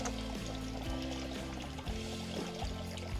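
Groundwater pouring steadily from a pipe beside a farm tank in a village orchard, a continuous close gushing flow with no talk over it.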